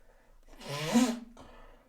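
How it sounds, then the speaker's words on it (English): A single sudden sneeze from someone at a computer, a sharp breathy burst with a short intake before it and a faint trailing exhale. "that was unexpected sneezing"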